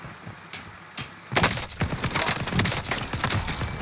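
Rapid bursts of automatic gunfire in the Call of Duty Warzone video game, starting after a few isolated shots and then sustained as dense, loud overlapping volleys to the end.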